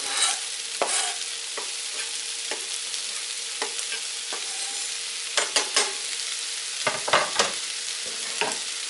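Garlic, onion and seitan sizzle steadily in a hot pan while a utensil stirs them, with soft scrapes early and a cluster of louder stirring knocks toward the end, close up and without talk.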